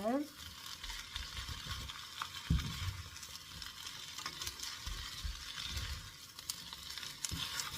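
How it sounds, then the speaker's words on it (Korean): Dried radish greens stir-fried in plenty of perilla oil: a soft steady sizzle with repeated scraping and tossing of the greens against the pan, fairly quiet and close, without talk. "이렇게 기름을 충분하게 들기름으로 이렇게 코팅을 시켜줘야 맛있게 볶여져요"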